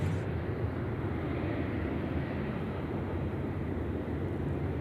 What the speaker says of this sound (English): the 330-200 to Wuhan, making their way down taxiway Alpha as we speak